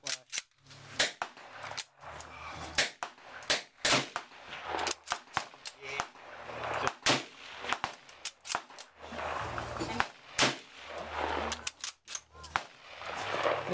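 Gunshots at an outdoor shooting range, a steady series of sharp, separate cracks spaced irregularly, fairly close, with low background noise and voices between shots.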